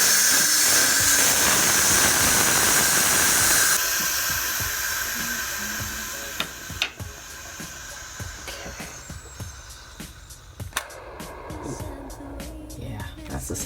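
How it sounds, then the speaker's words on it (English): A Power Pressure Cooker XL venting steam while cooking minestrone soup, a loud, steady rushing hiss that cuts off after a few seconds, followed by quieter clicks and handling noises as a person talks. "letting the steam off."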